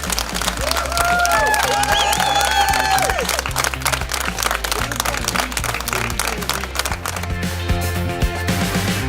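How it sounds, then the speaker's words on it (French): A crowd at the Cap Féminin Aventure event in Meknès applauds and cheers loudly and continuously, with dense clapping and whistles over music playing underneath. "j'aimerais évidemment qu'on vous applaudisse vous d'abord très fort"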